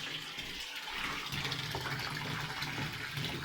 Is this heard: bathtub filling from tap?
yes